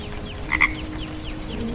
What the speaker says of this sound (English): we encounter Layla, the lullaby frog, whose melodic croaks have serenaded the rainforest with nature's lullabies